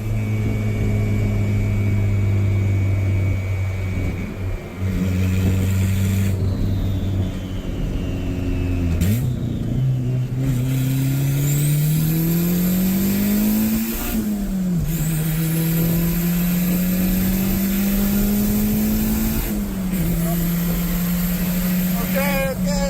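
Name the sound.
turbo Honda Civic engine accelerating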